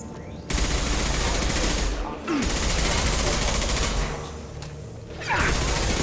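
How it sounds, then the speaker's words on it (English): Sustained assault rifle fire from Mass Effect 2, loud dense automatic bursts rattling almost continuously with a couple of brief pauses, a voice heard under the shooting. "This assault rifle is absolutely doing a job."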